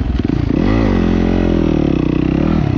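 A 2018 Yamaha YZF 250 dirt bike is kick-started and its engine catches, settling into a loud, close, steady idle with a brief rise in revs early on.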